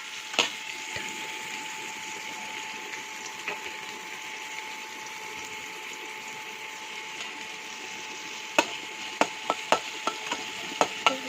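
Onion, green chilli and coriander fry in a pan for upma with a steady close hiss. Scattered ladle clicks come early, then a quick run of sharp taps against the pan near the end.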